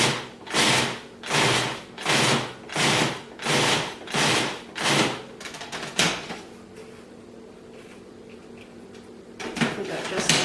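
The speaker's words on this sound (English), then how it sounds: "add your old-fashioned oats to the processor and process the mixture until it's moistened" A food processor pulses old-fashioned oats into a pumpkin bar mixture with about seven even, loud whirring bursts, then goes quiet except for a few soft clatters near the end.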